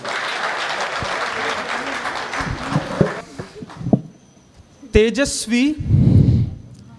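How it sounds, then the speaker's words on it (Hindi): An audience at a Hindi kavi sammelan claps to welcome poet Das Arohi, a moderate burst of applause lasting about three seconds that fades into a few stray claps, followed by a voice speaking. "अपनी तालियों से आप ही लोग बुलाइए"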